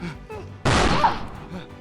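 A pistol fires in a video game, a single loud, sharp blast with a short decaying tail cutting through quieter background sounds.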